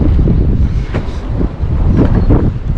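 Strong wind buffets the microphone aboard a small fishing boat out jigging, a steady low roar with gusty swells and faint water and hull noise beneath, no voices.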